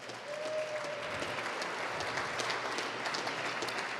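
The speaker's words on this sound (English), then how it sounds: "Give them another round of applause," Applause from a community audience for chefs at a university culinary program, a steady, moderately distant patter of many hands clapping without voices.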